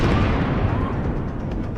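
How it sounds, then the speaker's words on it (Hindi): A loud, sustained explosion roar from a drone strike on an embassy, dense rumbling blast noise filling the whole moment with no clear quiet gaps. "किस तरह से जोरदार धमाका हुआ और फिर आग धुएं का गुबार उठा।"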